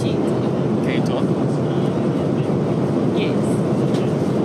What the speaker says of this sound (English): We're just testing how the sound sounds like while we're on a plane, and it's super noisy.